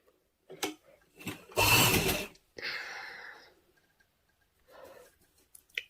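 Short bursts of a sewing machine stitching a baby girl's frock, a loud whirring run of about a second with a few brief clicks and softer mechanical passes around it, no talking.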